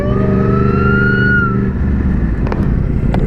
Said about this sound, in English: 3 ambulances.